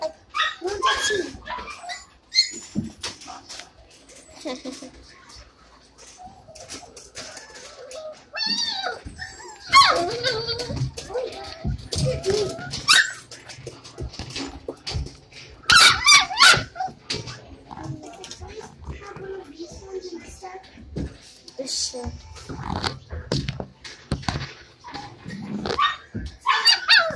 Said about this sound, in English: doggy! I took him.